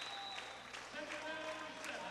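Fans clap steadily in the stands at a Dayton Sharks arena football game against the Kentucky Xtreme, a faint, even patter of applause under a commentator's voice.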